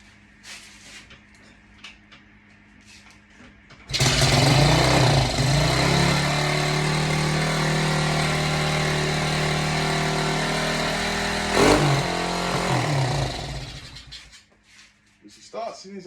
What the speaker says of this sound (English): Let's see how many attempts to start it.